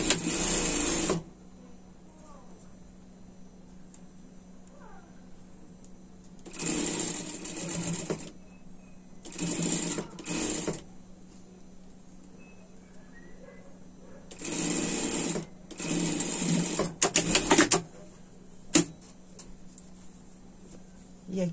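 A sewing machine topstitches a seam on a winter pet dress, running in several loud, steady bursts separated by quiet pauses, close and clear.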